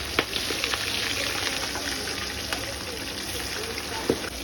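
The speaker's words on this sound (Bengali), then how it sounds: "কি বড় বড় পিস আর পুরো মচমচে ভাজা হবে একদম" Big pieces of rui fish deep-fry in hot oil in a large wok, a steady dense crackling sizzle running throughout with a few sharper pops, close and fairly loud.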